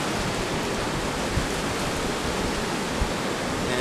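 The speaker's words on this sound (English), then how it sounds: "we're also getting water all over it" Water poured over an Auxbeam 18W off-road LED light buried in sand makes a continuous, dense rushing splash, loud and close, steady throughout with a couple of small knocks.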